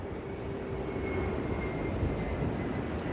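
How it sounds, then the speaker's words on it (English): Planes taking off from nearby JFK International Airport, heard from Rockaway Beach, Queens at dusk: a steady distant jet engine roar with a faint whine, continuous and alone. "We got the planes taking off from nearby JFK International Airport."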